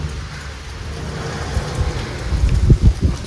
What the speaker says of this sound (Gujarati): હવે તમને વરસાદ બતાવું